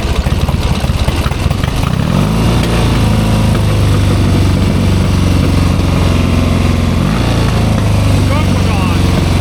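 A 1972 Triumph 650 Bonneville motorcycle engine sputters to life and then revs and idles loudly and roughly nearby, with people talking faintly underneath.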